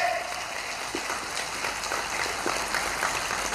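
An audience at a gathering for the elders applauds in a sustained patter of many hands clapping. The sound is moderately distant and steady, and a faint voice rises briefly near the start.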